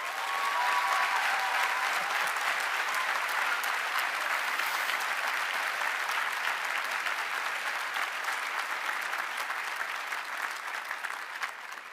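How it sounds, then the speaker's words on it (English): Sustained audience applause at the 2024 Cushing Academy commencement ceremony, honoring retiring faculty; a dense, steady clapping from a large crowd that holds for about twelve seconds and eases slightly at the end. "Let's give them a round of applause."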